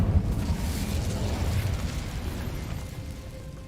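Incendio fire spell cast in Hogwarts Legacy, a loud fiery whooshing burst with a deep rumbling roar that gradually fades over a few seconds.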